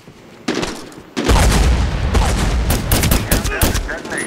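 A demolition charge detonating in Medal of Honor: Warfighter on the Tungawan Jungle map, a sharp blast then a loud rolling roar with crackling debris and pops, close and sustained.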